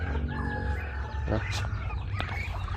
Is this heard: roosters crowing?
yes